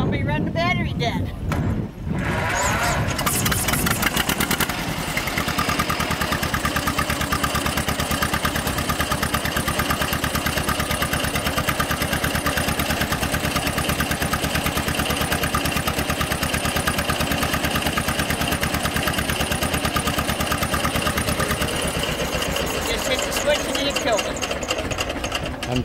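A John Deere two-cylinder tractor with electric start, run at a two-cylinder expo in New York, turns over and settles into a loud, steady engine drone that stays close and continuous throughout, with voices faintly mixed in.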